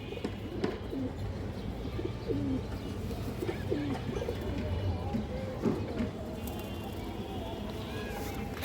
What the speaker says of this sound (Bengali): খুবই সুন্দর একটা তোতা মাদি কবুতর।